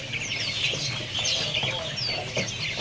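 A coppersmith barbet, called takur ungkut, calls at a bird kiosk among other caged birds, giving a few short, bright, sweeping chirps over a continuous murmur of background noise.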